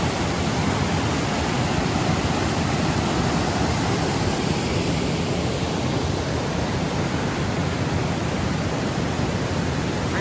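The Thompson River flows beneath a bridge on a hiking trail, heard as a steady, loud, broadband rush of water that stays constant throughout with no voices.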